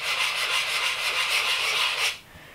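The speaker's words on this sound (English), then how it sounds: "to even it all out, we're gonna come in with the sanding block" Rapid rhythmic rasping of a sanding block rubbed back and forth over the filled foam surface of a model P-51 warplane, close and steady, stopping abruptly near the end.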